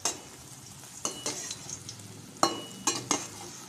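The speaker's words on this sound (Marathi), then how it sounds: "आता मी ऑइल गरम केलेलं आहे, तर आपल्याला हे ब्रेडचे जे तुकडे आहे ते छान असे तळून घ्यायचे आहेत" Bread pieces fry in hot oil with a soft, bubbling sizzle, joined by a handful of sharp scraping stirs and clatters that come in short bursts, quiet and close.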